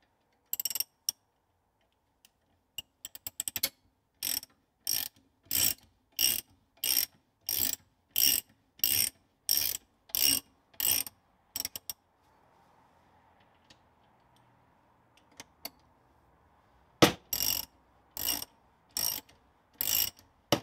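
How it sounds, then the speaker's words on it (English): Ratchet wrench tightening bolts on a Land Rover Series 2 rear axle hub, with rapid bursts of sharp clicking strokes, a short gap with a faint hum, then another run of clicks near and loud. "I got bored with this slow ratchet, so I engaged turbo mode to get the job moving a little bit faster."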